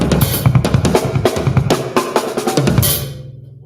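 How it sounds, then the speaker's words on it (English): Live drum kit played in a busy fill pattern, rapid snare and tom hits mixed with crisp cymbal strikes cut short by hi-hat chokes, loud and close, ending on a final cymbal crash that decays away. "you can hear when we're playing hi-hat chokes in the middle of things"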